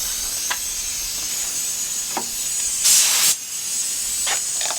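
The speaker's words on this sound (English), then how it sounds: "test our spray pattern a little bit" A paint spray gun hisses steadily while test-spraying a pattern for painting a chair, with one louder, sharper burst of spray midway and faint clicks scattered throughout.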